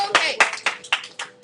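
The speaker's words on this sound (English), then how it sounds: "clap if you agree with Ashley." Students clap in a high school algebra classroom, a short burst of several quick uneven claps, fairly close, with faint voices mixed in.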